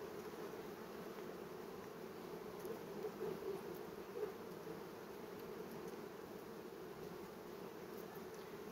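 Honeybees hum in a steady, low drone near a hive in an apiary, a continuous faint buzz with occasional single bees passing closer; no voices.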